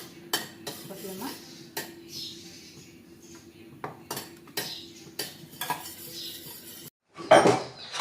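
Grated carrot roasting in ghee in a pan is stirred briskly, with repeated metal spoon scrapes and clanks against the pan over a faint sizzle.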